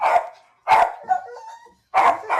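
A shelter dog at a humane society barks close and loud, three sharp barks with a short whine between them.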